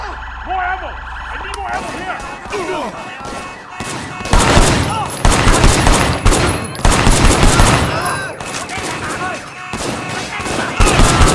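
Gunfight during an escalating armed robbery in the video game Sleeping Dogs, with loud dense bursts of gunfire layered over blaring police sirens and shouting voices, continuous and chaotic throughout.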